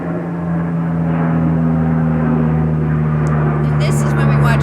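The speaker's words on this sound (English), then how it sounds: "this is when we watch the giant airplane go by" A giant airplane flies over an outdoor flower farm. Its heavy engine drone is loud and continuous for the whole stretch, with a strong low hum throughout.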